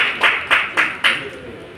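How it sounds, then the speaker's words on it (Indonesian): Seminar audience at a health talk breaks into applause, heard as four short, loud bursts of clapping in quick succession that fade into quiet. "Kasih tepuk tangannya yang meriah dulu."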